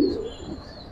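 Giribaz pigeons give a short burst of cooing at the start, which fades quickly into a quieter background hum for the rest of the second.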